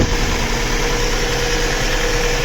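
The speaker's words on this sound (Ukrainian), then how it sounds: "Двигун повністю вийшов на робочу температуру, 90 градусів. Ось так працює." An Opel Vectra C 2.2 engine idles steadily and smoothly at full operating temperature after timing chain replacement, a constant low rumble close by with no other sounds.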